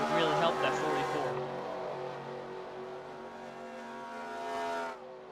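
Race car engines roar at the start of a superspeedway series race in a racing video game, a dense pack of engines droning and revving loudly before fading, with commentary talking over them.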